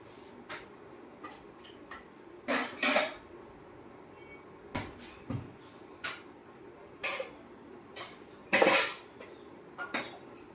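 Steel dishes and cutlery loaded into a dishwasher, a series of sharp metallic clinks and clanks, some single and some in quick clusters, separated by short quiet gaps, with no talking.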